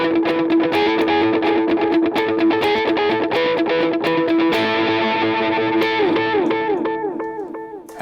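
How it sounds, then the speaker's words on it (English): Distorted electric guitar played through a pedalboard with a dotted eighth delay, each picked note trailed by rhythmic repeating echoes that ring out and fade at the end, loud and alone. "you've got to have the worship, that dotted eighth delay"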